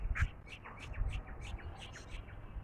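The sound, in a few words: cuckoo and other birds calling in spring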